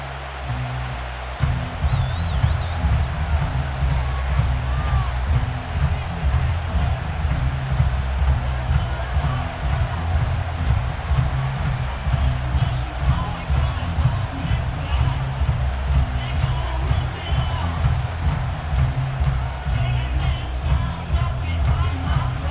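A steady stadium crowd roar at Highmark Stadium in an EA Sports football game holds as a dense, continuous wash throughout, with a commentator's voice talking over it.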